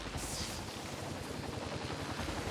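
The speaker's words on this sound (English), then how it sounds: "And then the helicopter is moving like it is right now." Helicopter in the video game Infamous 2, a continuous rotor thrum with a steady low chopping pulse, moderately loud and unbroken across the clip.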